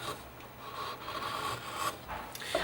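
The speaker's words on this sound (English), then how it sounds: "you can use a chisel to take off some of this bevel" A chisel shaves a bevel off a piece of wood, giving steady close rasping and scraping strokes with brief pauses between passes.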